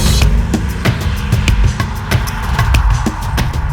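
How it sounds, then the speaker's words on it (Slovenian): A 2020 BMW 840d xDrive Gran Coupe M Sport with a 3-litre diesel engine drones with a deep, steady bass rumble from inside the cabin, overlaid by regular rhythmic thumps as it drives along. "Motor je odličen, všeč mi je, da ima tak globok basovski zvok, čeprav je dizel."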